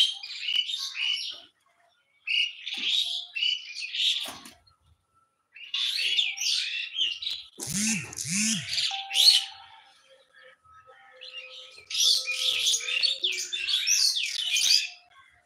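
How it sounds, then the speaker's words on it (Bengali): Birds chirp and twitter loudly in bursts of busy, high calls with short pauses between, plus a brief low cooing note partway through. "পাখিগুলো চিল্লায় কেন?"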